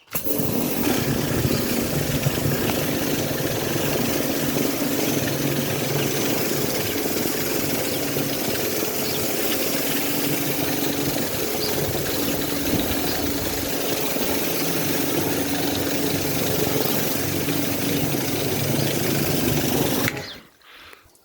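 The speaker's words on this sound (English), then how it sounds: "I've been using the patio cleaner on it. It's 10 times faster than trying to pressure wash with the normal attachments" Karcher K4 pressure washer running with a patio cleaner attachment, a steady loud motor drone and spray hiss that holds nearly unchanged for about twenty seconds, then cuts off abruptly at the end.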